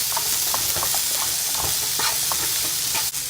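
Onions sautéing with salt in a pan for a vegetable curry, a steady close sizzle broken by frequent scraping stirs of a spoon and a short knock near the end.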